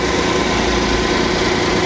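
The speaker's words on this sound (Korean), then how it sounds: "엔진 소리 들리시나요?" A Hyundai Grandeur HG 300 Noblesse 3.0 car engine idles steadily, a smooth, even mechanical hum close by with no voices and no change in pitch.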